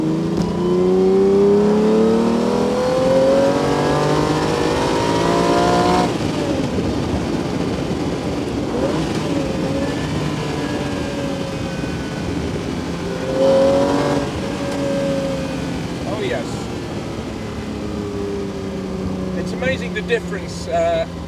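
A classic Italian V12, a Ferrari Daytona or Lamborghini 350GT, accelerates hard through the gears on a road around a bend, the engine note rising and falling in pitch with each shift, loud and close throughout.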